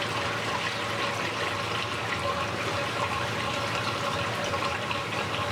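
A Jebao aquarium pump on its lowest setting runs submerged with a DIY needle wheel impeller, giving a steady, close watery churn and hum with no talking.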